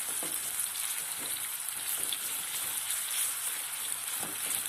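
Chopped onions fry in oil in a pan over medium heat, giving a steady, soft sizzle with faint crackles that runs on with no talking.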